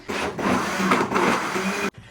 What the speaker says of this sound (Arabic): وتشغلي الخلاط وتفرمي كل الخليط دي